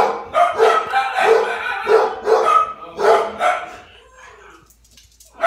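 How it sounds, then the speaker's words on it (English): Several dogs bark excitedly in quick bursts, close by, with short yips between volleys before the barking trails off into quiet. "They get all excited because they see Luna and they have to bark."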